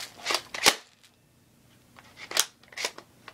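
A BB gun is reloaded up close with a few sharp mechanical clicks and rattles, clustered in two short groups separated by a quiet pause; no one speaks.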